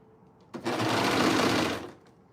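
A serger stitches through fabric for a scarf in one steady, fast burst of about a second and a quarter, starting abruptly and then stopping, close by.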